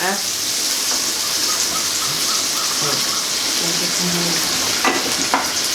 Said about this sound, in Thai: ตามด้วยน้ำมันหอย หมักให้เข้ากัน ผัดจนหอมนะคะ จนมันเหลือง